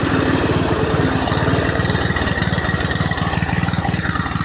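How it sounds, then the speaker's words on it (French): A car engine runs steadily with a throbbing, slightly rough idle that swells a little as the accelerator is pressed, close and loud throughout with no talking. "peut-être mettre un peu à l'accélérateur"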